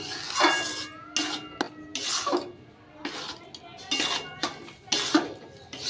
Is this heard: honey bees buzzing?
no